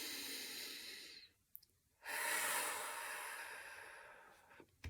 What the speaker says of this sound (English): Okay, take a deep breath in.